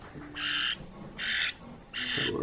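A bird squawks loudly indoors, three harsh crow-like calls in a steady rhythm, each about half a second long, with short quiet gaps between them.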